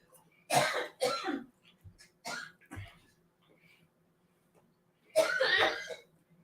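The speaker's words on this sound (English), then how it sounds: "having a little bit of a coughing attack" A person coughs repeatedly in harsh bursts, with gaps of quiet between fits and some throat clearing, close to the microphone.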